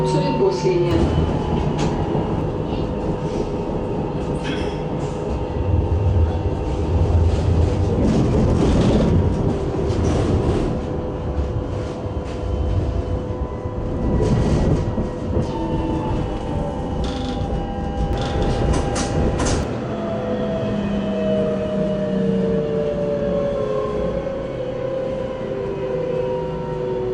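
A Nuremberg tram on line 6 rolls along with rumbling wheels, rhythmic rail clacks and rising and falling motor whine, heard loud from on board, with occasional squeals and knocks across nearly half a minute.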